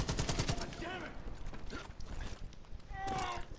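Rapid bursts of gunfire from hunting animals in Far Cry 5, sharp repeated shots close up mixed with game sounds and talking over them.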